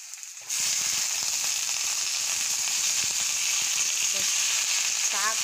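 Red amaranth greens drop into a pan of fried onions, and a loud sizzle bursts in after a brief quieter moment and holds as a steady hiss with faint stirring taps.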